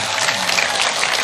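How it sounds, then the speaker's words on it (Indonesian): A short burst of loud, dense crowd clapping from the audience at an Islamic sermon gathering, steady throughout with no pauses. "Tepuk tangan tuh NU dan Muhammadiyah."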